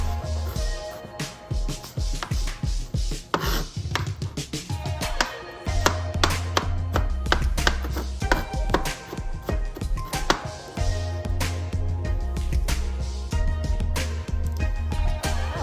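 Kitchen knife chopping three garlic cloves finely on a cutting board, a close run of rapid, irregular taps and chops with brief pauses, heard alone.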